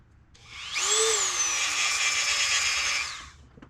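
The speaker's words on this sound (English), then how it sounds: "I had a grinding stone wheel on here" A bench grinder's stone wheel grinding the boss of a Mazda Miata crank pulley spins up with a sharp rising whine, holds a loud steady high-pitched grind for about two seconds, then winds down, with no talk.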